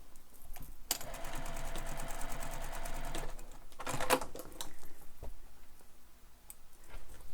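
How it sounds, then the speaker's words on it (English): A sewing machine stitching along the top of a handbag seam allowance to hold it pressed open: a long burst of rapid, even needle chatter, a short pause, then a second brief run and scattered clicks, up close. "I will stitch at the top within the seam allowance so that that stays pressed open"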